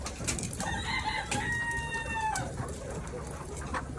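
Hens on a farm with nests for laying hens give a drawn-out, rising call in the middle of the clip over steady background noise, fairly near, while someone speaks.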